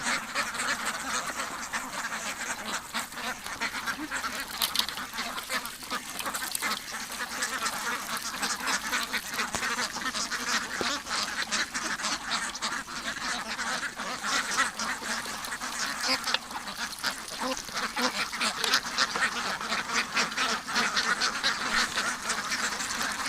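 Ducks crowding together at feeding time on a winter duck farm keep up a busy, unbroken racket of overlapping quacks, close and steady throughout, with males dominating the flock.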